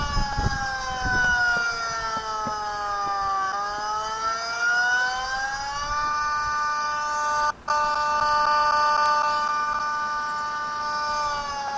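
A tornado siren sound played from an Android phone app wails steadily and loudly for about twelve seconds, its pitch sliding slowly down and back up, with one brief dropout partway through.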